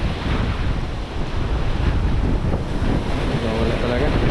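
Ocean waves wash and surge steadily near an island shoreline, a continuous broadband roar with gusts of wind buffeting the microphone throughout.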